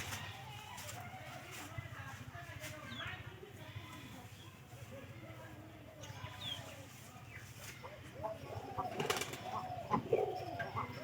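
A new pigeon carrying straw in a home loft, soft cooing and wing flutters over a constant low hum and rustling, with a few sharper knocks and movements near the end.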